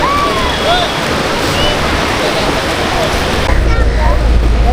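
Waves wash steadily on a shallow, safe beach with waist-deep water, a constant rushing surf that stays loud throughout and grows heavier toward the end.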